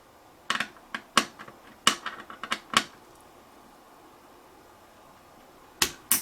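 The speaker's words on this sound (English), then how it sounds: "we're just going to give it just a turn until we feel the first click of the tool" A hand tool clicks as it is turned tight, giving a run of sharp close clicks spaced unevenly over about two seconds, then a quiet pause and two more clicks near the end.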